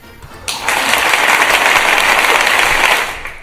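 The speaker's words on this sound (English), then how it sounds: "Not sure if that deserves a clap." A short burst of applause from a small group, rising quickly, holding steady for a couple of seconds, then fading out.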